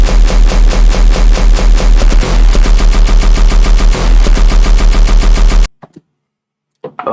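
Machine-gun-style bass synth patch built in Sytrus, a loud rapid stream of gritty repeated bass pulses like automatic fire that cuts off abruptly into near silence with a couple of faint blips.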